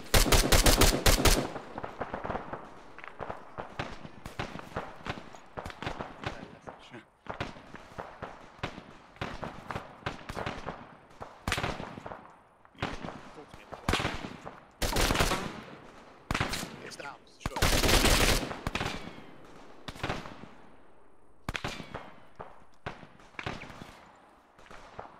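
Heavy gunfire and machine-gun bursts in the military shooter Arma 3, sharp loud cracks and rapid volleys repeating throughout, some very close and others more distant, with a voice faintly talking underneath.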